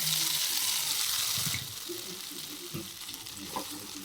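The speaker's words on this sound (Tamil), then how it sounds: "எண்ணெய் ஊற்றி கடுகு உளுந்தம் பருப்பு போட்டு, கடுகு வெடித்ததும் நம்ம அரைச்சி வச்சுருந்ததை உள்ளே சேர்த்துடலாம்." Ground chutney paste dropped into hot oil with spluttering mustard seeds and urad dal for Madurai thanni chutney, a bright hissing sizzle that starts loud, then settles into a softer crackle with occasional stirring scrapes.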